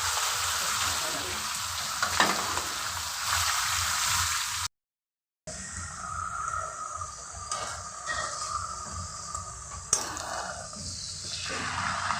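Bay leaves dropped into hot oil in a pan crackle and sizzle with a steady frying hiss, broken by a brief gap, with a few louder pops near and close.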